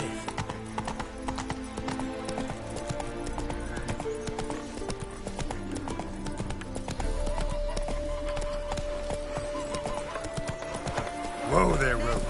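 Roach the horse galloping in The Witcher 3, a rapid clip-clop of hooves running under game music with a brief whinny near the end, alongside spoken dialogue.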